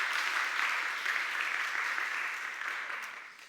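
Church congregation gathered for Sunday worship claps warmly to welcome a new member, a steady, moderate round of applause that holds briefly and then fades away.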